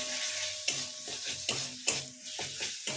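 Beet paste is stir-fried in a pan, with soft, close sizzling broken by regular scraping strokes of a spatula about every half second, with no talking.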